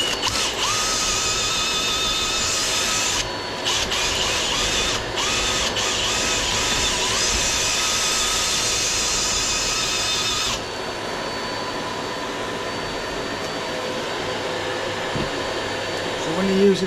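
Power drill spinning a stiff chimney sweeping brush inside a brick chimney through an access in the chimney breast, a loud steady whirring motor with a brief dip around the third second, running continuously before easing off to a quieter rumble.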